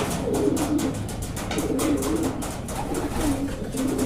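Racing pigeons coo repeatedly in low, throaty murmurs over a busy background of flapping and shuffling, fairly close and steady throughout.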